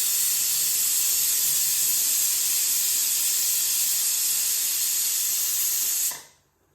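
Pressure cooker venting a steady, loud hiss of steam while mutton sambar cooks, continuous for about six seconds before cutting off abruptly into near silence.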